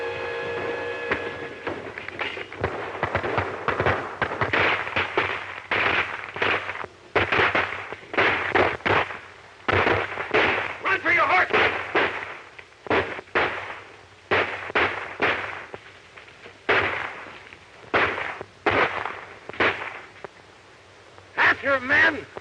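A 1941 western shootout: repeated sharp gunshots crack in irregular bursts throughout, loud and echoing, mixed with raised voices and commotion.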